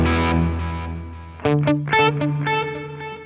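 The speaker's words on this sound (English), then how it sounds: "it's almost like a delay that has reverb in the delays" Electric guitar played through a Joyo D-Seed II delay pedal in Space mode, with reverb washed into the repeats: picked notes and chords ring out with smeared, echoing tails and a slightly driven tone, alone and moderately loud.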